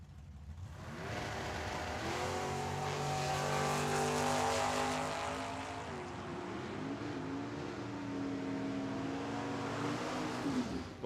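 Two drag cars, a Nova and a Camaro, race on a Tucson dragstrip; a loud, sustained engine roar with rising and shifting revs fills the whole stretch, swelling in the middle and holding steady without speech.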